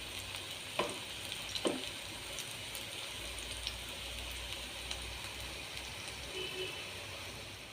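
Ripe nendran plantain pieces frying in ghee in a pan, a steady hiss and sizzle throughout, with a couple of sharp scraping knocks as the slices are flipped.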